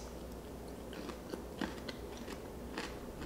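Crunchy pickles being bitten and chewed from a jar during a mukbang eating session, with a steady series of close crisp crunches spread over a few seconds and no talking.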